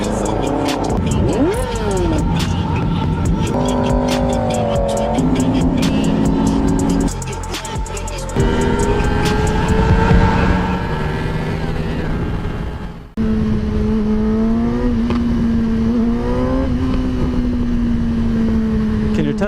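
A Yamaha R6 motorcycle engine revs hard and passes, with sweeping, whining pitch changes rising and falling over steady engine roar, loud and close, with a voice speaking briefly.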